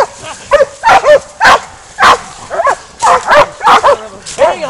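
Several dogs bark and yelp in rapid, overlapping bursts during a wild boar hunt in the Sabine River bottoms, loud and close, with a harsh, strained edge and no clear pauses.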